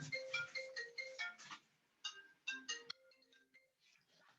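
A mobile phone ringtone plays in a lecture room as repeated short melodic bursts, then falls silent and returns briefly, fairly faint, with no talking over it.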